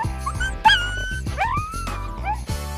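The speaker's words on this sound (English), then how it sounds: "there is something especially sweet about the song of this pariah dog from New Guinea" A New Guinea singing dog, a pariah dog, gives short whimpering yips and sliding, pitch-bending howls that rise and fall like song. The calls are close and clear over a low background hum.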